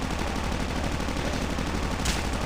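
Rapid, sustained automatic fire from a PTW rifle in Call of Duty Mobile zombie mode, a dense continuous rattle of shots filling the whole stretch with a sharper burst near the end.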